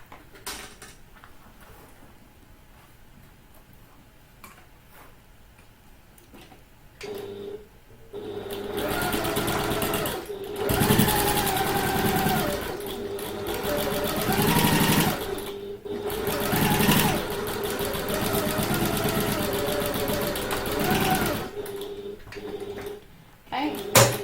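A sewing machine runs at regular stitch length through a handbag, starting after a quiet stretch and then whirring steadily and loudly for long runs with brief pauses.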